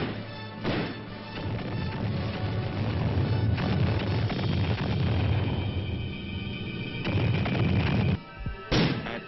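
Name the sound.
military artillery and mortar fire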